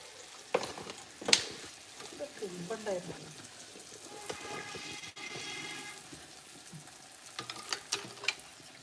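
Neyyappam, a sweet Kerala fritter, frying in hot oil, giving a steady sizzle with scattered pops and clinks of a utensil, close and moderately loud, with a voice speaking briefly over it.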